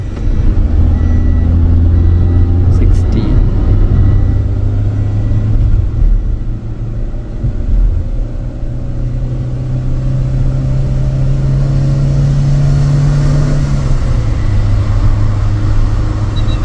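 Steady low engine rumble of a van cruising at speed on a test drive, with continuous road and drivetrain drone that shifts pitch slightly near the end and no talk.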